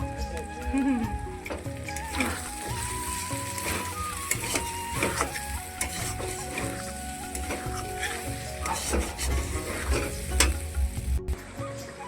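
Red chili chicken sizzling and frying in a pan, stirred with steady scraping and clatter throughout, loud and close, with faint background voices.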